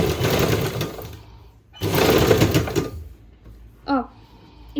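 A sewing machine stitches a blouse sleeve in two short motorized bursts separated by a pause, with brief speech near the end.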